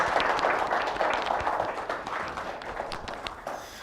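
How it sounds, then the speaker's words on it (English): A lecture audience applauds after a talk on developing a global mindset, steady crowded clapping throughout that eases slightly toward the end. "A big round of applause, please"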